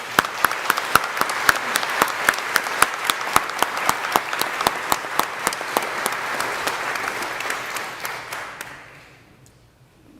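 Audience applause at a church annual meeting, many hands clapping together with a few sharp individual claps standing out, holding steady before tapering off into near silence at the end.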